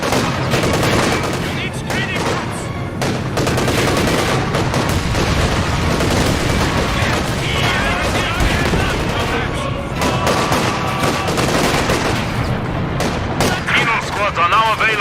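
Dense gunfire and artillery crash together in a video game as an incendiary barrage lands, a continuous roar of shots and booms with voices mixed in.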